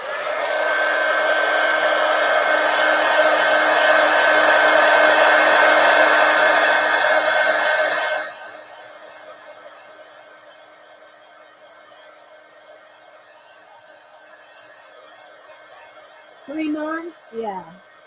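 Hair dryer blowing on an art journal page, a loud steady whir running for about eight seconds before cutting off, followed by quiet and brief voices near the end.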